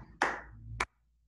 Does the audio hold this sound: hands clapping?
yes